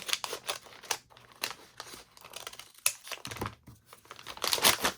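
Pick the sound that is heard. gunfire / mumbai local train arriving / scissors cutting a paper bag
scissors cutting a paper bag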